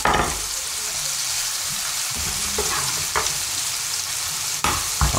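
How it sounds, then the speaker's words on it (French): Coarsely sliced mushrooms go into a hot frying pan, setting off a steady close sizzle broken by a few clanks and scrapes of a utensil against the pan. "les champignons qu'on escalope grossièrement et hop on rajoute dedans"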